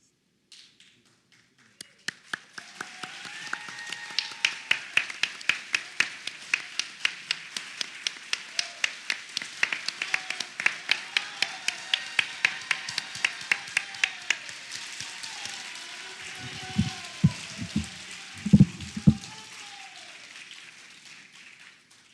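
A single pair of hands claps in a steady, evenly spaced rhythm at an oath of office ceremony, crisp and close, slowly fading out with a few heavier thumps near the end.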